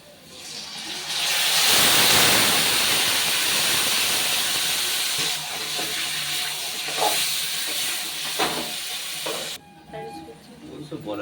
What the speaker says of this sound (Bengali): এবার এর মধ্যে ম্যারিনেশন করা মাংসটা ঢেলে দেব।